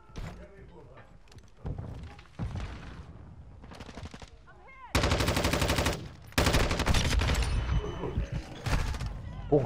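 Rapid automatic gunfire in a Call of Duty Modern Warfare II match, loud repeated bursts, some long and sustained, with shorter single shots and in-game clatter in between.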